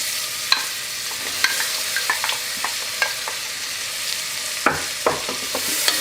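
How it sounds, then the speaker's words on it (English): Onion and celery sautéing in about two tablespoons of melted butter in an Instant Pot, giving a soft continuous sizzle with sharp scraping and tapping clicks from a utensil stirring up close. "And we're just gonna saute that until it's bright and tender."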